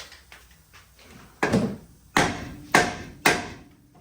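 Four sharp metallic hammer blows ring out in a loose rhythm on a ball joint of a 2009 Chevrolet Trailblazer, preceded by softer handling knocks.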